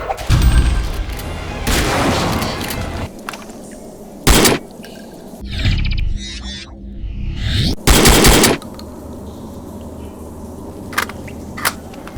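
Game gunfire from a rifle-mounted underbarrel shotgun in a first-person shooter: several loud, sharp blasts spaced a few seconds apart, with rumbling battle noise and a quieter stretch between them.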